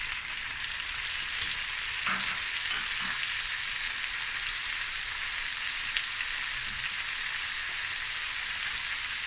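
A pilchard frikkadel mixture with chopped tomato fries in a pan, giving a steady, even sizzle with a few faint clinks of stirring.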